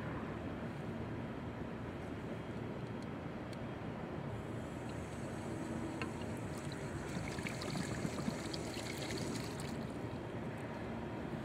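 Water rushes through a Hunter PGV irrigation valve that is not closing, a steady broadband hiss that holds at an even level throughout with no pauses.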